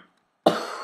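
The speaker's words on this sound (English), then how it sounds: "I already broke that promise, and I coughed" A single short cough from a man who is still sick, sharp and fairly close, coming after a brief silence, with no talk around it.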